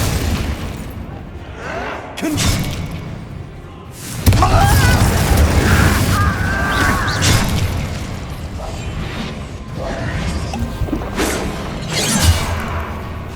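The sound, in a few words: Hogwarts Legacy video game spell blasts and crashes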